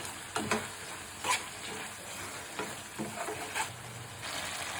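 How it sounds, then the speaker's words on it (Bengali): Dried fish frying in oil with chili, garlic and onion while being stirred in a pan; soft steady sizzle broken by several scraping stir strokes, close and fairly quiet. "শুধু মরিচ, রসুন, পেঁয়াজ, তেল অনবরত নাড়তে থাকবো যেন নিচে তলা নিতে না লাগে।"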